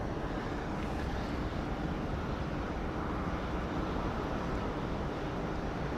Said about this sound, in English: Another Qantas 737-800 just coming in now over the drink.